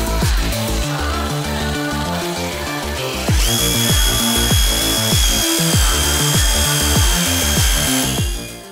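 Power polisher buffing the paint of a Dodge Ram with medium cut compound, a steady loud whirring drone with rhythmic pulsing passes, rising in pitch partway through, no talking.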